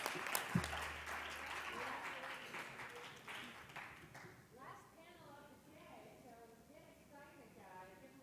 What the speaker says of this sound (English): Can you all give them a big round of applause?